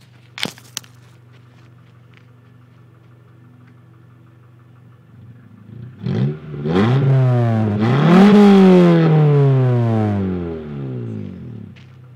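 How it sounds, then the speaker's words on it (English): A 2000 Honda Civic Si running with its muffler removed, idling quietly before the engine revs up loud and raspy in rising and falling sweeps, close to the microphone. "I took the muffler off. It's way back there. It smokes, but this is what it sounds like without the muffler."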